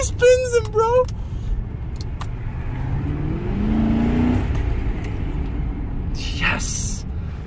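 A Lincoln Town Car spins its wheels in a brief surge of engine revving and tire noise midway, with people talking before and after and a short burst of scraping noise near the end.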